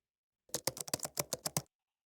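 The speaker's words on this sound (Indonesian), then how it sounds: "Udah ada suara-suaranya ketika dia ngetik dan menampilkan namanya ini." Typing sound effect in a homemade Ramadhan Quest game: about ten crisp, close keyboard key clicks in a quick uneven burst lasting just over a second, with silence before and after.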